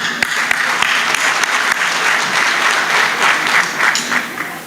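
Loud, sustained crowd applause at a CHP parliamentary candidacy introduction speech in Aydın, steady dense clapping filling the whole stretch close to the microphone.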